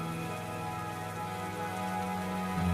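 Heavy rain pours steadily on a surface, a constant close patter with a faint low hum underneath.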